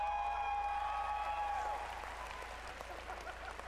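An audience at Bethesda's E3 presentation applauds in a dense, sustained wash of clapping that starts loud and slowly fades, with a lingering musical tone at first.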